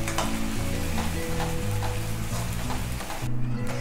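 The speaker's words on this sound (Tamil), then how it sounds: "ஜிஞ்சர் கார்லிக் பேஸ்ட்டை ஆட் பண்ணிவிட்டு நம்ம நல்லா ஸ்டீர் பண்ணி விடலாம், கலந்து விட்டுடலாம்." Ginger garlic paste sautéing in a pan for mushroom rice, a dense continuous sizzle with stirring scrapes, under steady background music.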